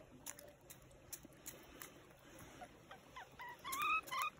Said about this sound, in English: Beautiful little hens. Listen at her.